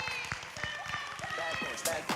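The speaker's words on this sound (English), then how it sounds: "Audience, let's give them a huge round of applause" Audience at a bodybuilding pre-judging in Bali applauding and cheering, with steady clapping, scattered shouts and whistles filling the space, and a brief louder swell near the end.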